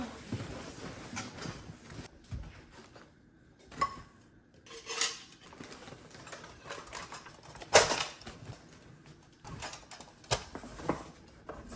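Dishes, skillets and kitchenware clink and clatter during unpacking, scattered faint knocks and rattles with occasional sharper clanks in a quiet room.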